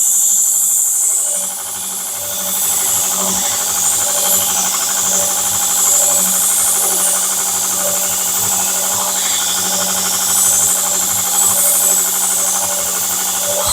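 A Grizzly 2x42 variable-speed belt grinder with a radius platen runs steadily at speed on a kurouchi-finished blade, a loud, sustained whirring hiss with a brief dip early on and rhythmic contact scraping throughout.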